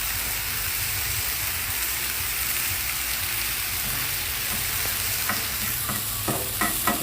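Bacon and corn sizzle on a Blackstone griddle with a dense, steady hiss, joined near the end by sharp little pops and crackles, close up with no talking.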